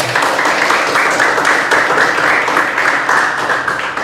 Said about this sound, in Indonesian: Bisa ibu dengan tepuk tangan kalian dulu biar lebih semangat.